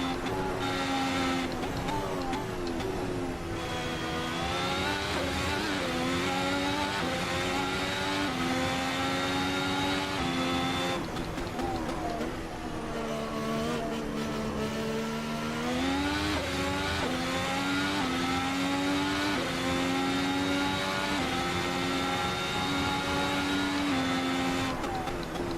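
A 2017 works Ferrari Formula 1 car's engine screams steadily on a hot lap in Assetto Corsa, its high revs rising and falling through gear changes and corners, loud and continuous with no talk.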